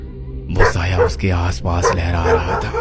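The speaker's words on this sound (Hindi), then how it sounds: "बरसों से बंद चर्च के बाहर एक कुत्ता तेजी से भौंक रहा था।" A dog barks and yips in a few quick bursts, mixed under a narrator's voice as part of a ghost-story sound effect.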